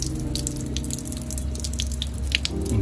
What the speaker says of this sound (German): Und das überflüssige Wasser, das läuft einfach weg.